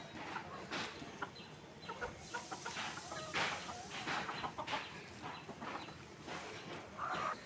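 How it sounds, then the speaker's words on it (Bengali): Desi chickens cluck and peck while eating outdoors, with soft, irregular clucks and scratchy pecking sounds scattered through a quiet rural background, moderately near, with no talking. "দেশি মুরগি সব খাবার খাচ্ছে।"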